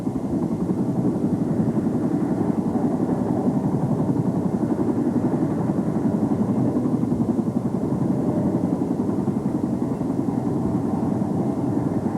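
Boeing CH-47 Chinook tandem-rotor helicopter droning steadily, a loud continuous low rumble with rapid rotor beating that holds even throughout, with no voices.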